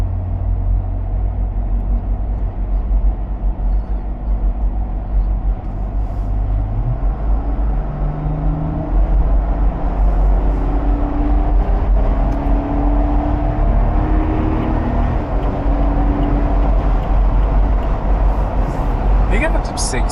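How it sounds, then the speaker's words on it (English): Inside an INEOS Grenadier cabin at highway speed, a loud constant roar of road and wind noise with low engine hum and rising tonal whine, steady throughout. "I want to get a feel for the ride and the noise level doing actually 70 or 75 miles an hour."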